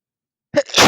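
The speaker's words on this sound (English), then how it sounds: "my goodness, I need to sneeze, hold on." A single loud, close sneeze bursts out after a moment of silence, with a sharp intake followed by an explosive, breathy release.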